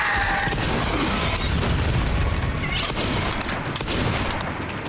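A grenade blast in Resident Evil Requiem lands as a loud, close boom, then dense crackling debris and rumbling action that stays loud for several seconds with no voices.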